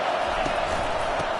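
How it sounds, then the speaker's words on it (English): A stadium crowd roaring during a college football game on a third-down defensive stand, a loud, steady wall of noise throughout. "Decibels rising as the crowd gets behind this defense on third down"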